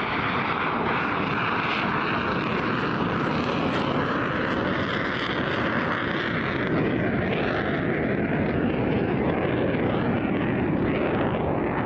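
A Pakistani-Chinese JF-17 Thunder fighter jet flies past at low speed during a display, its engine a loud, steady broadband roar that holds throughout with a gradual swell and no voices.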